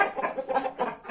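A rooster clucks in a few short, close, throaty bursts, repeating roughly every quarter second with no talking over it.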